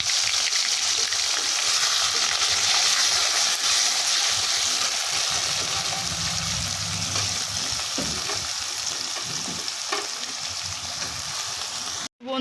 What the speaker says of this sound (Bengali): পেঁয়াজটা লাল লাল করে ভাজা ভাজা হচ্ছে